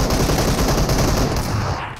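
Shotgun gunfire in the battle-royale mobile game PUBG Mobile: a dense, loud burst of shooting and noise that runs almost without a break for two seconds.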